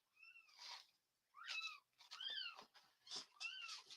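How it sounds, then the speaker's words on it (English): Several kittens meow in a quiet setting, giving short, high, wavering cries one after another with brief pauses between them. "I hear baby kitties. Who is squalling?"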